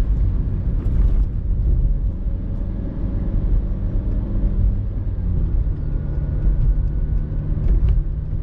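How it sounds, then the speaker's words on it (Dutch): A truck drives past on a road, heard as a loud, steady low rumble of engine and tyres that fills the whole stretch without fading, with no voices over it. "En dan komt hier ook een vrachtwagen hier toe"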